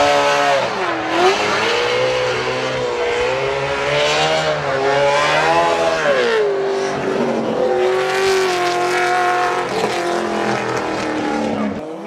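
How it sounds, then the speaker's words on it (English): Daigo Saito's NASCAR V8-powered Toyota Altezza drift car runs a bye run at Formula DRIFT Japan, its loud engine howling and swinging up and down in pitch through the corners with constant tire squeal, close and continuous. "Just enjoy the sound of Daigo Saito's NASCAR V8 Altezza here."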